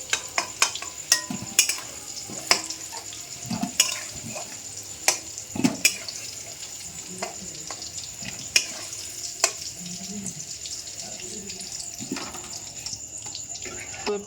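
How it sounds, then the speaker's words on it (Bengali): Potato pieces fry in a pan of oil for Kashmiri dum aloo, giving a low sizzle broken by sharp clinks and scrapes of a spatula against the metal at an uneven pace, with no talking. "আলু ভাজা হয়ে গেছে"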